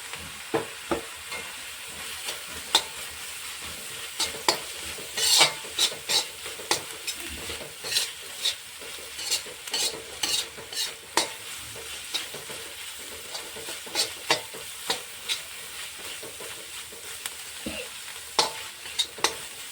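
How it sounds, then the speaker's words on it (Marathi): Onion and green chili fry and are stirred in a pan for egg bhurji: a constant soft sizzle broken by frequent sharp spatula clicks and scrapes against the metal, close and without talk. "कांदा बघा आपला चांगला परतून झालेला आहे आता यामध्ये आपण ही हिरवी मिरची ॲड करणार आहोत"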